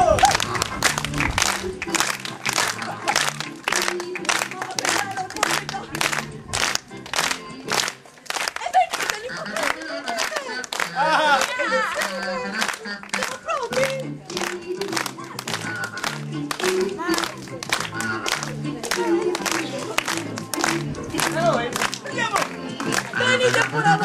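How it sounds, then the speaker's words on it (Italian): Theatre audience at a Teatro La Madrugada show applauding in a steady, rhythmic stream of close claps lasting throughout, with voices and other sounds mixed in underneath. "Un applauso!"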